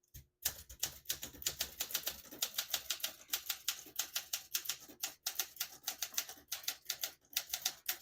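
Rapid, steady keystrokes clatter on a 1965 Olympia SM9 vintage portable typewriter in very good condition, a crisp mechanical tapping with brief pauses between bursts, close and fairly quiet.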